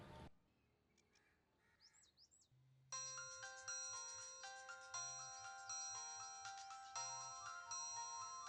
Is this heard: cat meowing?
no